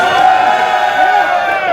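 A crowd at a live console-wars event cheers loudly for the Sega Dreamcast, a dense, steady roar of shouting voices throughout.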